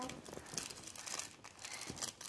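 A gift package is opened by hand, its wrapping crinkling and rustling in soft, close bursts, with faint voices in the background.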